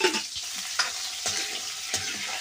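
Dried fish sticks frying in oil in a kadhai while being stirred, a steady close sizzle with several sharp scraping stir strokes, with no talking.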